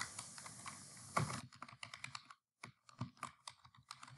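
Fingers typing on a computer keyboard, a steady run of close, crisp key clicks with a brief pause partway through, no voices.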